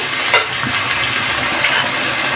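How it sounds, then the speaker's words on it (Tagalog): Chicken pieces sauté in a hot pan for Filipino chicken nilaga, giving a steady, close, loud sizzle with faint stirring clinks and no talking. "Sangkutsahin lang natin guys mabuti yung ating chicken para mawala yung kanyang lansa"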